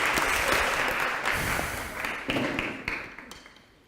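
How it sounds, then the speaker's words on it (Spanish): Applause from an audience at a church service: dense, loud clapping that fades gradually over a few seconds into scattered claps and taps. "Un aplauso, Ferran."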